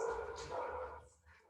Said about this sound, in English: You might have dogs barking in this class.